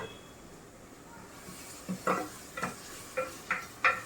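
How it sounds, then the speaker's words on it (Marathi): Mashing boiled potatoes and vegetables for homemade street-style pav bhaji, heard as a run of soft, rhythmic thuds and scrapes picking up halfway through, each press a short muffled knock over a faint background hiss. "बटाटा चेचतात हे बघा. ह्याने आम्ही चेचणार भाजी."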